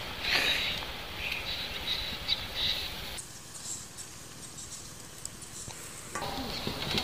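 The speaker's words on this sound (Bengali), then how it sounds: "চিনি সিরাটার মধ্যে ফুট উঠে গেছে, এর মধ্যে আমি একটা একটা করে রসগোল্লা ছেড়ে দেব।" A pot of sugar syrup flavoured with cardamom boils with soft, continuous bubbling and faint sizzling as rosogolla balls are dropped in one by one, with a few small splashes and clinks.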